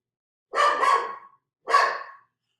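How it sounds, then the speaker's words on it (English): A dog barks two short times indoors during a lesson, close and clear with a pause between, the first bark a quick double yap and the second a single woof, with no talk. "my dog is disturbing our lesson, isn't she?"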